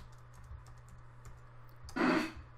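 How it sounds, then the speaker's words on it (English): Text typed on a computer keyboard feeding a LoRa radio interface: faint scattered key taps over a steady low hum, ending in a brief louder burst of clicking. "So I'll put some text into the buffer through the keyboard."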